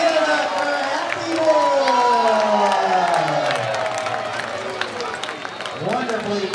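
A crowd roars and cheers at a Midnight Sun baseball game between the Michigan Monarchs and Alaska Goldpanners, a loud sustained swell of whoops and applause with an announcer's voice riding over it.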